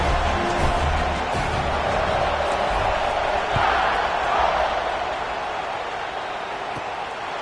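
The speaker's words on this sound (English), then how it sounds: "this crowd is buzzing after that last score" Football stadium crowd at a college game between Arkansas and Alabama, a loud continuous roar and buzz filling the space, swelling slightly midway before easing, with no clear talk on top.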